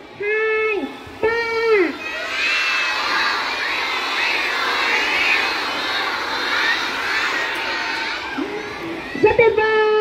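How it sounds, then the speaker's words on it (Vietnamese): A large group of children at Hồng Thái primary school in Vietnam shouts a welcome together in one long, loud, sustained cheer, bracketed by a few amplified adult words in Vietnamese at the start and end. "các bạn sẽ hô thật to là chào mừng đến với tiểu học Hồng Thái"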